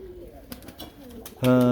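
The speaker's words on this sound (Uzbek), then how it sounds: "Bugun ertalab kaptar uchirib ketdim" Pigeons cooing softly through low background noise, ending in a sudden loud, sustained tonal call.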